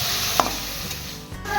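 Carrot pieces frying in hot oil in a home kitchen, a steady close sizzle with a brief clink or stir near the start and no talking.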